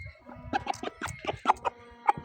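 A rooster, offered as a sound, unscarred bird for sparring, gives a run of short, close clucks in an uneven rhythm, loud and alone, without talk.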